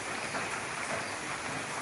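Steady rain falls in an even, continuous hiss with no distinct drops or pauses, soft and constant throughout and with no voices.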